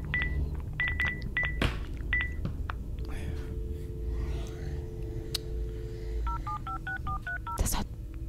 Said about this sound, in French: Ça appelle, ça compose pour l'instant.